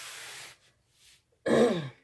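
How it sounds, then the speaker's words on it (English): A person clears their throat close to the mic, a soft rasp, a brief pause, then a louder gravelly grunt, with no talking. "I'm really sorry about me trying to clear my throat."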